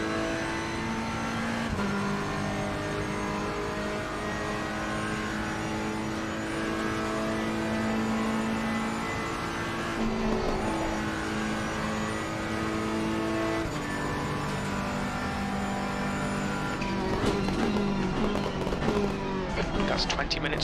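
A race car at Cadwell Park circuit drones steadily as it accelerates, its engine tone rising and falling through the gears, a continuous loud in-car roar with a driver talking over it.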